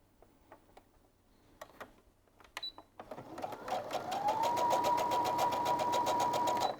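A sewing machine stitches folded fabric binding strips for a flange binding. A few light clicks come first, then the motor starts into a steady, close, whirring run of rapid stitches that holds to the end.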